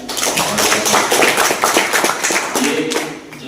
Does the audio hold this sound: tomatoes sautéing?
no